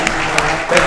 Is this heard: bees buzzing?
no